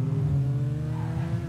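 A Toyota Mark 2 in GTA 5 holds a steady, loud mid-pitched engine drone that swells slightly, with no talk over it.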